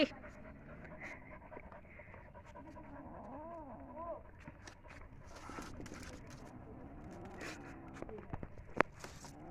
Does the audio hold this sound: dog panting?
yes